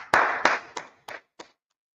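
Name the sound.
audience clapping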